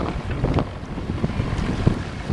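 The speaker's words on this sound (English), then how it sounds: "And the wind's blowing the opposite direction." Wind buffets a sailboat at sea, a steady roaring rush of air and wind noise over the microphone with low water and hull rumble beneath, continuous and loud throughout.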